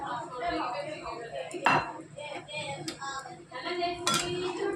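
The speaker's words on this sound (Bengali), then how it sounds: "এখন আমি দইটা দিয়ে দেব" Yogurt goes into a pan of dhi potol with pot and utensil clinks and scraping, a couple of sharper metallic knocks standing out over steady close kitchen clatter.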